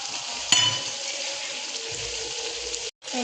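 Poppy seed paste is stirred into simmering gravy in a pan, giving a steady sizzling, watery churn with a sharp utensil clink near the start, close and without talk.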